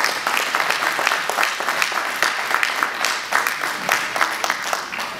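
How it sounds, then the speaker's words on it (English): An audience at an evening honoring event breaks into a sustained round of applause, a thick, even wash of many hands clapping at steady loudness throughout. "And that deserves a round of applause."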